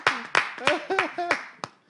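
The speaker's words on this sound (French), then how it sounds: "Applaudissez" A handful of sharp, separate claps at a religious gathering ring out roughly every third of a second, close and distinct, with a voice talking between and over them.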